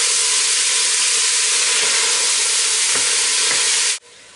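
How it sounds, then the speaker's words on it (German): Onions fry and steam gently in a pan, a loud, even sizzling hiss held steady for about four seconds before cutting off abruptly. "wir tun jetzt eine halbe Stunde so dahin braten, dämpfen, bis die goldgelb sind."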